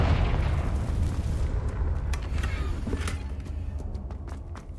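A Confringo blasting spell goes off in Hogwarts Legacy: a loud, booming explosion right at the start, decaying into a rumbling tail with a few sharp crackles scattered through it.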